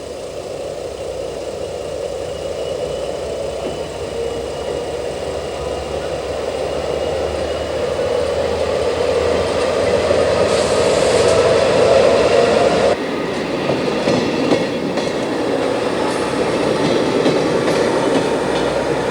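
A French SNCF X 4300/X 4500 "Caravelle" diesel railcar rolls along the track in 2003, a loud, continuous engine drone and rail rumble that builds slightly, with a sharp shift in tone partway through.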